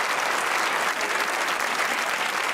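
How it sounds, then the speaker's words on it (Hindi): A studio audience at a comedy talk show bursts into sustained, dense applause, loud and close, with many hands clapping evenly across the whole span and no clear speech. "ताली बजनी चाहिए।"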